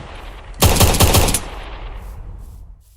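A gun from a Minecraft weapons mod fires a short burst of about four rapid, loud, close shots in a video game, followed by a fading echo tail and a quieter background.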